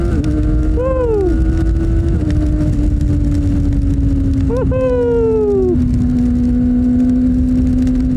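A Kawasaki ZX25R motorcycle engine whines close and loud, climbing in pitch and dropping as it upshifts twice, then holding a steady drone, with a voice talking over it.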